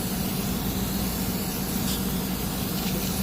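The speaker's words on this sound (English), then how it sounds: "I'm just going to spray." Cooking spray sprayed into a cake pan for a double chocolate cake, a steady close hissing spray running without a break.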